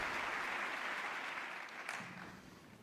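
A standing audience applauds Pope Francis in the US Congress, a broad, steady roar of clapping that holds loud throughout and eases slightly toward the end.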